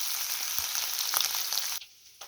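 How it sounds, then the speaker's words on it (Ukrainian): Sauce with sausage frying in a pan, a steady close sizzle with a few soft stirring knocks, cutting off sharply near the end to near quiet. "Ось так підгорюється соус із кубасою"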